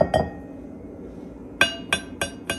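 Glass dishes from a 1970s-style pressed-glass pattern clink together: one early tap, then four sharp, bright clinks at a steady pace near the end, close and clear over a quiet room.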